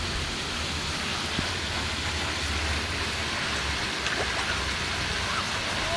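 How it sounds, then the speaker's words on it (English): Steady rain falling outdoors on a cool day beside Rondout Creek, a dense even hiss of drops with a low rumble underneath, constant throughout with no talk. "it's 50 and raining"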